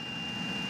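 A car engine coolant heater running in January weather, a steady close droning hum with a constant high whine, unchanging for the whole short stretch.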